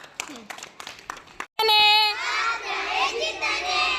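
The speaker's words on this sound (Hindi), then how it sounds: "236 वेरी गुड, तालियां बजाओ।" A group of schoolchildren claps together in a classroom during a numbers game, a burst of loud, fast clapping that starts suddenly after a teacher's spoken praise and keeps going to the end.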